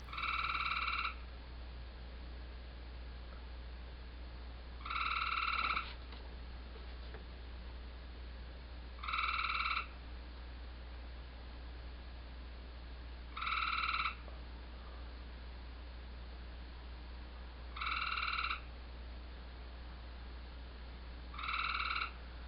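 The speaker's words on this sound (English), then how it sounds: "You have any idea how many times that frog makes me miss things?" A frog croaks outdoors at night in short, regular bursts roughly every four seconds, each a clear buzzy call over a steady low hum, with no voices.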